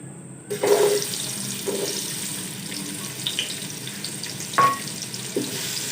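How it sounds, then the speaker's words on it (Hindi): Chopped medium onions dropped into half a cup of hot oil in a pot on the stove for beef pulao, giving a steady frying hiss with a few louder bursts, alone without talk. "ऑयल को अच्छे से गर्म होने देंगे। 2 प्याज डालेंगे दरमियाने साइज़ के कटे हुए।"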